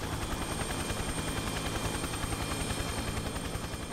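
A German-built BO-105 helicopter thumps with a fast, even rotor beat and a constant engine roar, close and steady with no talk.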